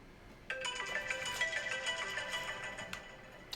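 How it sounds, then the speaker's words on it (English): A phone ringtone plays a quiet, bright melodic tune of repeated tones for about three seconds in an otherwise still room, with no voices over it. "Was that my phone?"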